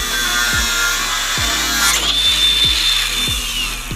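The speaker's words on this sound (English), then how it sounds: "You're getting better at sanding those lines" A power sander whirs steadily against wood, with a constant high grinding hiss and periodic dull thumps as it shifts along the surface.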